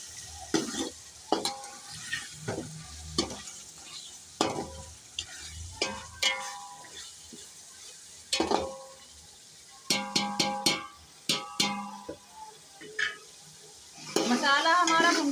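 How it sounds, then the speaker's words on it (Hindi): Potatoes fry and sizzle in a pot of spices for tahari while a utensil scrapes and stirs in irregular strokes, with clinks of metal against the pan. "अब हम आलू भून लेंगे।"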